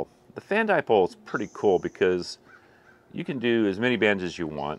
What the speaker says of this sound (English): the crows are going crazy today.